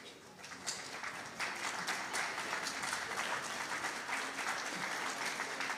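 Steady applause from a theater audience fills the room, a dense continuous patter that swells slightly after the first second and holds evenly throughout.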